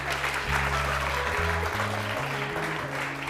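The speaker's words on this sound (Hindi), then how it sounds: "तालियां बजानी पड़ रही हैं।" Studio audience on a Hindi TV morning show clapping steadily, a dense sustained patter over a low music bed with stepping tones underneath.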